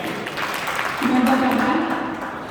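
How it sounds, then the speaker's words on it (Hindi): Audience applause at a poetry gathering, a broad wash of many hands clapping from a large crowd, steady and somewhat distant, with a sustained voice or tone rising over it partway through. "बहुत जोरदार तालियां एक बार समझे"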